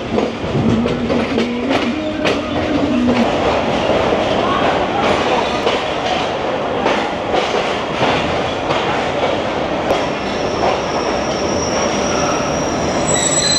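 Attock Safari Train rolling through the Rawalpindi station yard, with loud, continuous rail noise of wagons on track, a brief high wheel squeal early on, and faint voices underneath.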